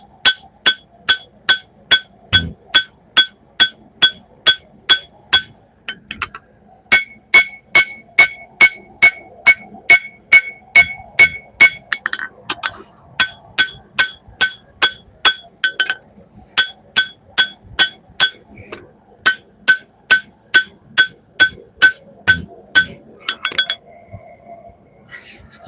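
A hammer strikes a sword blade on a saddled anvil to straighten it, ringing out in fast, even, bright metallic blows with short pauses between runs, loud and close.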